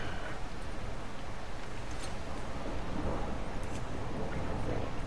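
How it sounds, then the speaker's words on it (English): Faint distant thunder rolling through a thunderstorm with steady rain in the game Far Cry 6, a low continuous rumble without a sharp crack and no talking. "I can't get over the fact that we're getting a thunderstorm in frickin' December. It was thunder."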